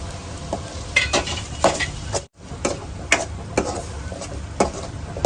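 Chopped onion frying in a pan for a bitter gourd curry, a soft continuous sizzle with intermittent clicks and scrapes of stirring, close and fairly quiet.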